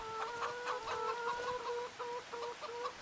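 Chickens clucking in the farming video game Farming Simulator 25, a steady run of repeated clucks and short calls that continues throughout at moderate level with no talk.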